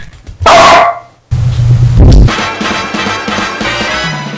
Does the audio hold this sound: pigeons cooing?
no